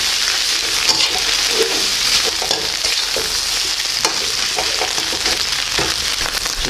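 Preserved radish being stir-fried in a pan, a steady loud sizzle with scraping spatula strokes repeating throughout, close up and with no voices.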